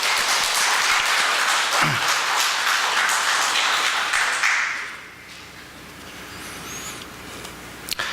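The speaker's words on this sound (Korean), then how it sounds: "격려의 박수를 좀 드렸으면 좋겠습니다" A church congregation at a Sunday worship service applauds in encouragement, a burst of loud clapping for several seconds that drops off abruptly, leaving quiet room tone and a few faint knocks.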